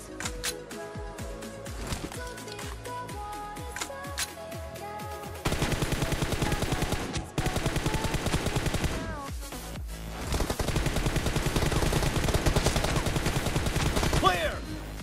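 Rapid bursts of M416 rifle fire ring out in a PUBG Mobile 1v1 warehouse custom match, loud dense volleys that pause briefly and then resume more intensely toward the end.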